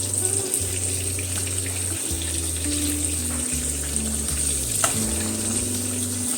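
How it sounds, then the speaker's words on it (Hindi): Calamari deep-frying in oil over a medium flame gives a dense, continuous close sizzle and bubbling, with a faint low hum underneath and no talk. "तो इस पे मेरी कालामारी को इस टेम्परेचर पे मैं फ्राई करूँगी"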